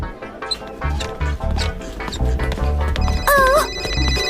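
A mobile phone rings with a bright warbling electronic tone over busy cartoon music and effects, the ring rising clearly near the end.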